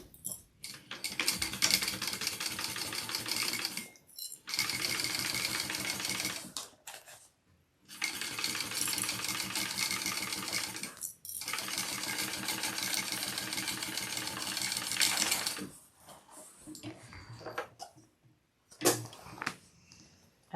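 Domestic sewing machine stitching backpack fabric pieces in several bursts of rapid, even mechanical clatter separated by short pauses, close and fairly quiet, with a few softer handling clicks near the end.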